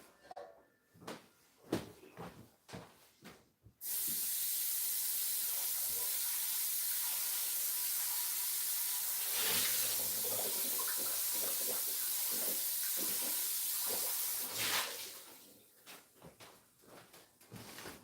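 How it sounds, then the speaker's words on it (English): Hot water from a tap runs steadily for about eleven seconds, rinsing out an old, long-used pot after scrubbing. Brief clatter and handling noises come before and after the continuous splashing stream, close by, with no talk. "rinse it out with hot water."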